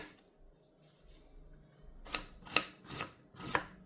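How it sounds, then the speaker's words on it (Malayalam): A large onion is chopped with a knife on a board: after a quiet start come four or five sharp, close knocks at an uneven pace. No one speaks. "ഇനി ഇതിലേക്ക് ഒരു സവോള, അത്യാവശ്യം വലുപ്പമുള്ള സവോള തന്നെയാണ് ഞാൻ എടുത്തേക്കുന്നത്. ഇത് നമുക്കൊന്ന് ചെറുതായിട്ട് കട്ട് ചെയ്ത് വെക്കാം"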